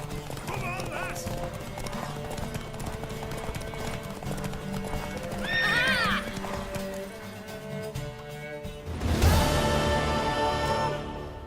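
A mare neighing and clip-clopping hooves in The Witcher 3, with rhythmic hoofbeats under background music, a whinny partway through, and a sharper burst of sound near the end.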